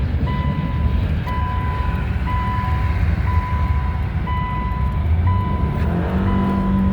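Steady road and engine noise from a 2014 Subaru Outback with the 2.5 engine cruising on the highway, a continuous broadband rumble with a repeating high beeping tone on top, no talk.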